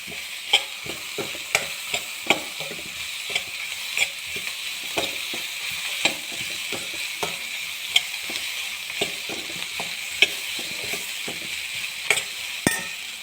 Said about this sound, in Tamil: தேங்காய் போட்டு வறுத்துக்கோங்க. ஒரு 5 நிமிஷம் வறுக்குங்க.